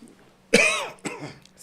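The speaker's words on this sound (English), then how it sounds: "Yeah, so I'm coughing, so when I cough, you need to know" A person coughs twice during a table discussion, a strong harsh cough followed by a second, weaker one after a short pause, close and clear against a quiet background.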